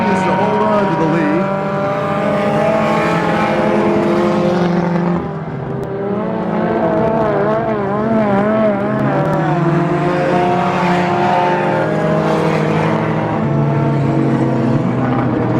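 Stock race cars at the Turkey Classic in Pearsonville, California, engines screaming loud and close as they sweep past in waves, pitch rising and falling, with a commentator's voice partly under the roar.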